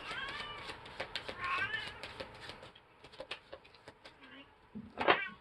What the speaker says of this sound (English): My daughter left her cat in my room.